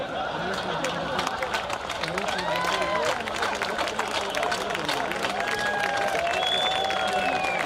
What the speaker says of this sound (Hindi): अच्छा, जिनका खाया पिया वही लोग ताली बजा रहे हैं।